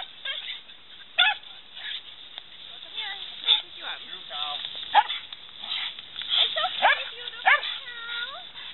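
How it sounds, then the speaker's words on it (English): Several dogs bark and yelp in excited, irregular bursts at cows in a pasture, some whining, with people talking underneath throughout. "The dogs were getting all worked up because of the cows."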